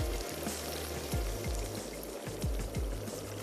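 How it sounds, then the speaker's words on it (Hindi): Water poured into a pot on a stove while kebabs are being cooked, a continuous splashing trickle with a few gurgling drops and a light sizzle, heard up close with no voices. "साथ ही मैं इसमें ऐड करने जा रही हूँ पानी"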